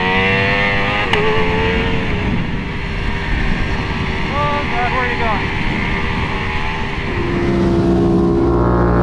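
A Ducati Streetfighter V4 S motorcycle engine runs loud and steady with a rising and falling revving tone throughout, a faint voice heard briefly under the engine noise.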